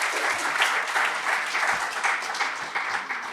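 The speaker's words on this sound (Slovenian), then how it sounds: "tako da najlepša hvala in en aplavz Anji Banko" A cinema audience at a coffee-and-film talk in Ljubljana's Kinodvor applauds guest Anja Banko, brisk even clapping from a modest crowd that swells slightly and then tapers off near the end.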